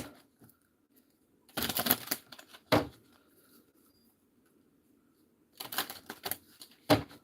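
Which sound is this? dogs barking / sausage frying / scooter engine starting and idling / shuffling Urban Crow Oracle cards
shuffling Urban Crow Oracle cards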